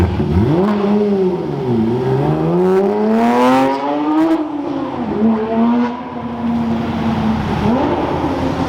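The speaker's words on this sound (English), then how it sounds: "There's nothing better than an inline, like a flat six, just burning it" Flat-six car engine revving hard with a straight-piped sound, rising and falling pitch sweeps as it climbs and drops through the revs, loud and close with no talk.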